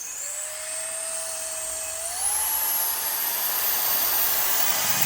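An electric compressed air duster blows with a high, steady whine that steps up in pitch and loudness as its power rises, close and alone.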